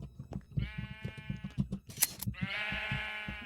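Sheep bleat repeatedly on a wool farm in a video game, several drawn-out calls near and loud, one long bleat at the end, over a busy layer of soft clicks and footsteps.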